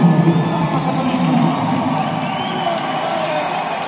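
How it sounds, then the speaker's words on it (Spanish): An arena crowd at a CMLL lucha libre event applauds and cheers loudly, a dense continuous roar of clapping, shouts and whoops that stays strong throughout. "¡Un aplauso a Magdalena!"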